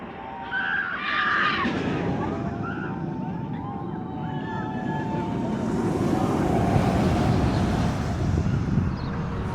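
Flying Aces roller coaster at Ferrari World in Abu Dhabi, heard as a loud continuous roar of rushing wind and track noise with faint screams early on.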